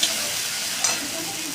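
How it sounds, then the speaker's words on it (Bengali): Cumin and spices stirred in a frying pan, giving a steady hissing sizzle with a couple of faint spoon scrapes, close and unbroken by talk. "গোটা জিরে দিয়ে ভালো করে আপনারা নেড়ে চেড়ে নেবেন"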